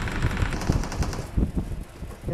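Rapid gunfire from the mobile battle-royale game PUBG Mobile, a dense burst of repeated shots that keeps going the whole time at a fairly loud level.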